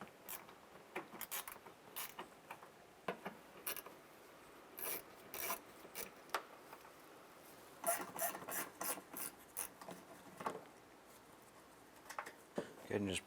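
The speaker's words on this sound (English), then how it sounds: "Using a 7mm socket, I'm going to go ahead and remove the lower small bolt from the back corner of the bumper." A ratchet with a 7mm socket turning out a bumper bolt on a 2005-2010 Jeep Grand Cherokee clicks in short close bursts, rasping and ticking at intervals against quiet room tone.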